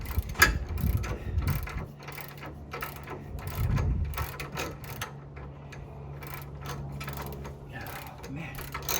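Ratchet wrench loosening a hot nut on a Ford Excursion during a lift build, giving bursts of quick clicking and clattering mechanism sounds at close range, with brief low thumps and a faint voice in the background.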